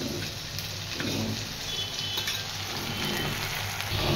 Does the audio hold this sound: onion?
yes